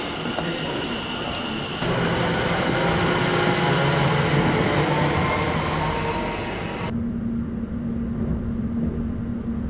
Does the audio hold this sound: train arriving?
yes